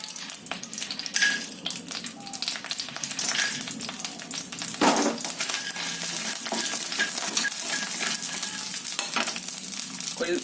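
Bori lentil dumplings fry in oil in a pan with a steady, busy sizzle and crackle, stirred now and then with scraping strokes, close and continuous throughout.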